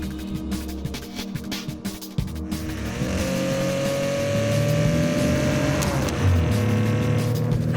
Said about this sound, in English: I really do like that last little note in the exhaust when you shift